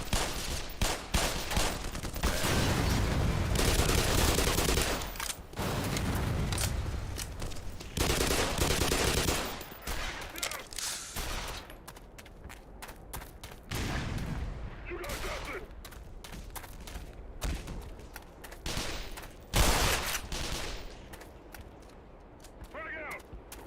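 Rapid video game gunfire rattles in dense automatic bursts and single cracks, loud and near, with a few pauses and a voice talking over parts of it.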